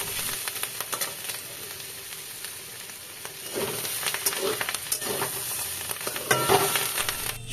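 Malabar spinach seeds (pui mituli) fry in a hot pan with a constant sizzling hiss, while rapid small pops and crackles burst through it and grow busier toward the end.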